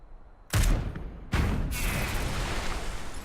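Two sharp blasts of weapon fire from the turn-based mech game Into the Breach, each a loud broadband burst, the second leaving a sustained rumbling roar that carries on to the end.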